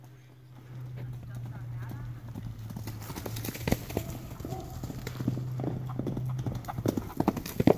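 Horses run out to a pasture with a busy patter of hooves that grows from faint to closer and louder, over a steady low hum, with people talking nearby.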